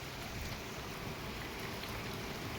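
Steady, gentle monsoon rain falling without pause, a soft even hiss of drops that stays constant and fairly faint throughout.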